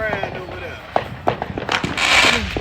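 Fourth of July fireworks go off near a park, with several sharp cracks and pops in quick irregular succession, ending in a brighter crackling burst, while people talk nearby.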